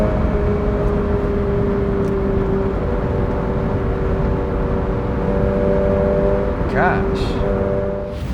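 Toyota GR86 engine while driving, a steady sustained drone heard from inside the car, holding an even pitch throughout with a brief rising sweep near the end.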